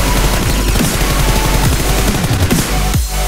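A loud, rapid burst of automatic gunfire in the battle game PUBG Mobile, a dense fusillade of overlapping shots lasting about three seconds before cutting off, with no talk.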